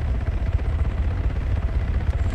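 A drone in the video game ARGO whirs with a steady low rotor drone, a continuous rumbling hum without pauses and no talk over it.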